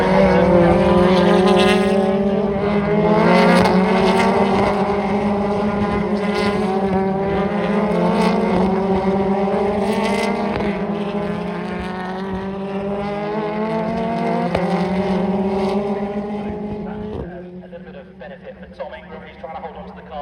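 Race cars on a circuit thunder past one after another, their engines rising and falling in a continuous loud roar as a commentator talks over the top.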